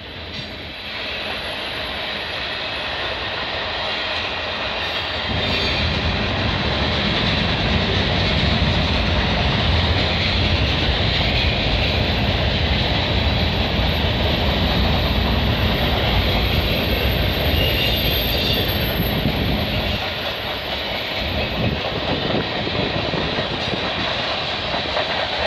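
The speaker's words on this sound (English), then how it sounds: "Symbol on that train is CN M301," A CN M301 freight train rolls past near Burlington Junction, Mile 32 in Oakville, its steady heavy rumble and wheel clatter swelling after the first few seconds and holding loud and close before easing slightly near the end.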